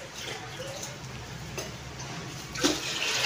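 Water poured into a pot of dal being cooked at home, a steady broadband rush of liquid running throughout with a brief louder splash near the end.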